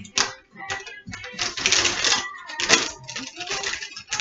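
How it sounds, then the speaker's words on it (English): A knife slices open a bag of mix, with crisp plastic crinkling, tearing and rustling in several close bursts, with no talk. "When you can't find scissors to open your bag of mix, just use a knife."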